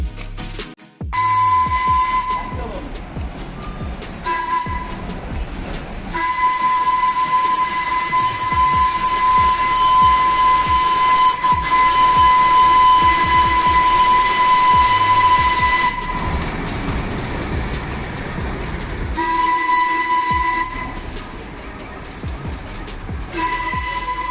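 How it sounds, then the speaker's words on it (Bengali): The Darjeeling toy train sounds long, shrill steam whistle blasts, one held for several seconds, over the loud hissing chug and rumble of the running train, close by, with no voices. "চলো এবার তোমাদের টয় ট্রেনের সেই শব্দটা শোনাই যা শুনলে মন ভরে যায়"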